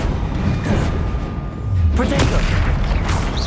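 A Confringo fire spell blasts in Hogwarts Legacy, a loud booming burst that hits around the midpoint and rolls on through the rest of the clip, mixed with game sounds and voices.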